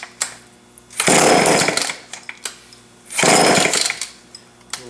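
A Homelite chainsaw is cold-started with two rough, sputtering bursts of engine noise, each lasting about a second, separated by clattering pulls and handling sounds.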